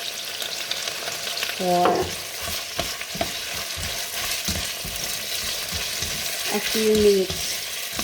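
Food seasoned with salt and black pepper fries and sizzles in a pan, with scraping stir strokes over a constant crackle and a person talking briefly.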